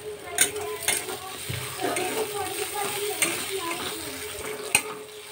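Ginger garlic paste fries in a pan while being stirred, with a constant sizzle under repeated clinks and scrapes of a spoon against the metal at an uneven pace.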